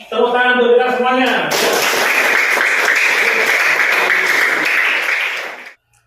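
A primary-school class claps together after the teacher's call. The dense, energetic clapping runs for about four seconds and stops together, preceded by a short burst of children's voices.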